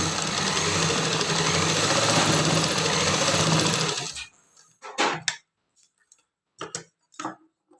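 A sewing machine stitching a seam joining doubled fabric strips for a pant belt, running in a fast steady whirr for about four seconds, then stopping into a few brief handling clicks.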